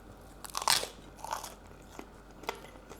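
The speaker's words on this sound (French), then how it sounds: "Ça va croustiller. Écoutez-moi ça." Crisp-topped food with a crunchy crust and soft interior is bitten up close, giving one loud crackling crunch followed by a few quieter crunchy chews.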